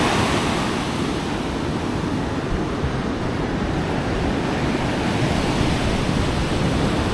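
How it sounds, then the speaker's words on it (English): Large ocean waves rolling onto a beach near Hoi An, a constant loud roaring wash of surf mixed with wind noise, no voices. "the waves are quite large."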